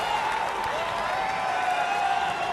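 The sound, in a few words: cricket crowd applauding Hashim Amla's century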